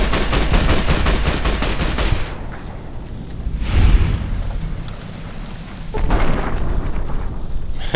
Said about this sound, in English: Something got blown up with my grenade during the slow-mo.